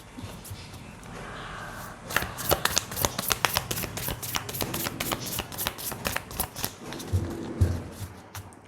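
Tarot cards being handled and shuffled, a dense run of quick papery flicks and riffles close by, growing busier partway through with a few soft knocks near the end.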